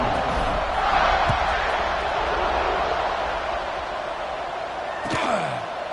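A stadium crowd roars steadily before kickoff of the Georgia vs TCU football game, a dense, loud wash of cheering with a sharp thud near the end.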